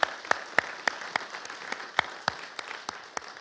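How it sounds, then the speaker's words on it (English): A small audience at a history lecture claps sparsely, with distinct separate hand claps spaced through the moment and no voices heard. "A round of applause."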